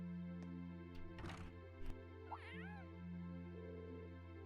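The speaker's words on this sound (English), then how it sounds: "Was that a cat I just heard?" A cat meows twice in quick succession, a rising-and-falling cry heard over steady background music in the video game Trails of Cold Steel, with a few dull thumps just before it.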